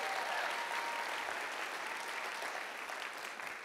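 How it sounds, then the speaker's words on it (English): Sustained applause from a large audience at a charity fast-pitch final showdown event, a steady dense wash of clapping throughout that eases slightly toward the end. "Can we give them a round of applause for doing such a great work?"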